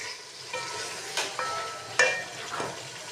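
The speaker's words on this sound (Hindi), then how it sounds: "अब इसकी भुनाई करेंगे।" Spices frying and being stirred in a pan for potato chicken curry: a low, steady sizzle with a few scraping strokes of a spoon, close and fairly quiet, with no talk.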